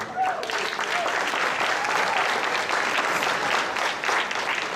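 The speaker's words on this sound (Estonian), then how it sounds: "tehke talle suur aplaus selle eest" Big round of applause from the audience at a ball gala, dense and steady throughout, with a few voices briefly rising near the start.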